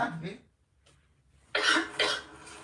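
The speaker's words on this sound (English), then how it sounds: "that cough looks pretty bad" A few harsh coughing bursts, close and fairly loud, separated by a quiet pause.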